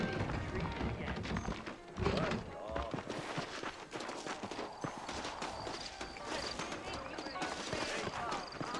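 Saddled horses' hooves clip-clop in Red Dead Redemption, a steady trotting patter carried under almost continuous talk and in-game background sound.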